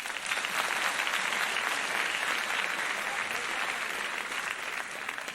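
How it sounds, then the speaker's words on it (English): A comedy show audience breaks into continuous applause, a thick even wash of clapping at constant loudness across the whole stretch, with faint crowd murmur mixed in. "By a round of applause."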